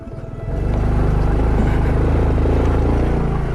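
A Honda XRM motorcycle labours up a steep road, its engine building to a loud, steady drone right up close, with rushing wind noise and no voices.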